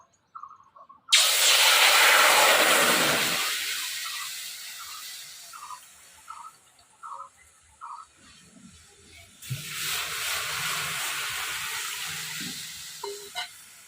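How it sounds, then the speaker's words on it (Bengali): Water in a village kitchen pot, heated for a jute-leaf fish-roe curry: a loud burst of hissing steam and sizzle that fades, then a quieter stretch with small clinks, and a second hissing rush near the end. "জল ফুটে গেছে"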